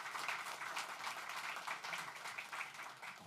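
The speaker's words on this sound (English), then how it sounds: "She deserves a round of applause." An audience at a grand opening event at 1064 Mission Street applauds with faint, distant, continuous clapping that stays even throughout.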